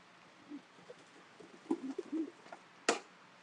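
Several short, soft coos from a small pigeon hen come in a loose burst, close and quiet, followed by a sharp clatter.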